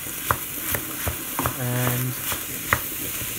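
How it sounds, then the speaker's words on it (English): Minced meat browning in a pan while a wooden spoon breaks it up, scattered scraping taps and knocks over a steady sizzle, close and fairly loud, with a brief spoken word. "Just breaking up the mince with a wooden spoon"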